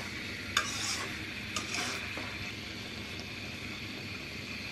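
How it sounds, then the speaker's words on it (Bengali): Spices being stirred in a cooking pan for a kakrol and layer chicken curry, giving a steady low sizzle with a few sharp scrapes of the spoon, close and fairly quiet, with no voices. "এবার ভালো করে নাড়তে হবে"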